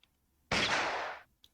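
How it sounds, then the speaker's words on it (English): A lone gunshot in a romance video game, one loud sharp blast that rings out with a short decaying tail, standing alone against near silence. "The last thing I hear is a lone gunshot ring out before everything fades to black"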